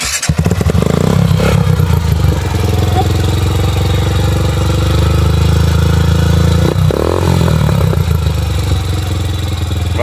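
A Yamaha TTR150 trail motorcycle fitted with a sport exhaust runs loud and close, its engine droning steadily with revs rising and dipping and a brief drop in the middle.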